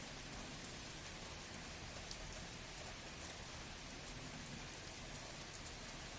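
Steady rain falling during a live stream, a dense continuous hiss of drops on a surface that stays even and fairly loud throughout with no pauses and no talk over it.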